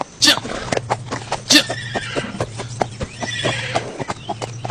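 A horse whinnies twice with bright, shrill neighs while hooves clip-clop steadily on hard ground, close by, over a low steady hum.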